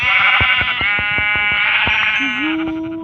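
A Minecraft sheep gives a loud, close, wavering bleat over about three seconds, followed by a thin steady tone near the end.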